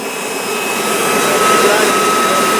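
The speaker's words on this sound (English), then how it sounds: "We got the torpedo heater heating up the tent" A torpedo heater runs with a loud, steady roaring blower hum inside a tent, with a faint tonal whine on top.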